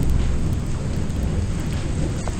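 Heavy rain pours outdoors during a thunderstorm, a dense loud continuous roar of falling water with a deep low rumble underneath, steady throughout.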